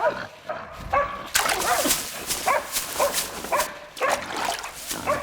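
Hunting dogs bark and yelp in repeated bursts while chasing a wild boar in winter terrain, with the boar's grunts and squeals mixed into the close, chaotic pack noise.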